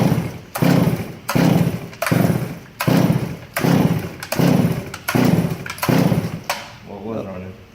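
A Stihl chainsaw without its carburetor adjusted and flooding runs in loud, rough surges, roughly eight rising and falling pulses about a second apart before it sputters and fades, heard close up.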